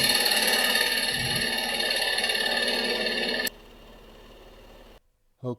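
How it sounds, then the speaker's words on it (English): A bowl gouge slicing into a maple burl spinning on a wood lathe, a loud, steady broadband cutting hiss with rattle that drops abruptly to a quieter motor hum, then stops, leaving a short sound at the end. "right at the tip of the bowl gouge you've got a steep angle, so it's slicing through the fibers cleanly"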